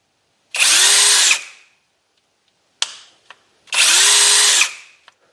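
Parkside Performance PPBSSA 12 A1 12V cordless drill running in short bursts: two loud, close whirring runs of about a second each, with brief clicks and taps between them and silence around them.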